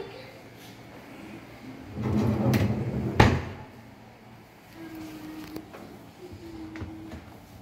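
A kitchen condiments drawer in a home under renovation opens or closes with a muffled rumble and a sharp knock near the middle, alone in a quiet room with faint background hum.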